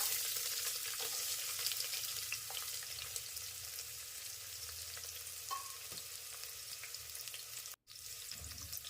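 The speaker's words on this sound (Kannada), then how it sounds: "ಎಣ್ಣೆಯಲ್ಲಿ ಈರುಳ್ಳಿ ಹುರ್ಕೊಳ್ಳೋಣ." Onion fries in oil with a continuous bright sizzle and crackle. The sound is close and even, with a few faint stirring clicks and a brief cut near the end.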